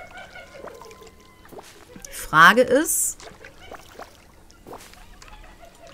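In Disney Dreamlight Valley, a watering can pours a brief splashy burst of water that trickles out, loud and close, while someone talks in German before and after.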